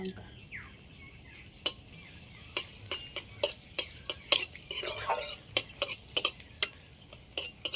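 Dried red chillies frying in hot mustard oil in a kadai, a low steady sizzle broken by a regular run of sharp metal spatula taps and scrapes, close by, with no talking.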